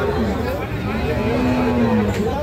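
Cattle low at a rural livestock market in Kaharol, Dinajpur, where local-breed dairy cows and calves are sold; one long moo stands out over steady crowd chatter and background noise.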